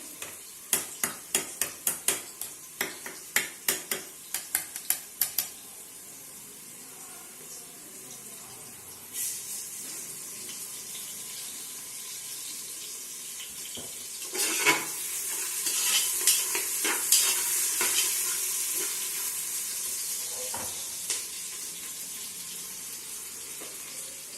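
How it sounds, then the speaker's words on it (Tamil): Onions sauté until golden for chicken biryani, opening with a quick run of rhythmic spoon taps against the pan, then a louder sizzle with scraping stirs and splashy bursts. "ஸோ எப்பவுமே வெங்காயன்றது பொன்னிறமாக வதங்கணும்"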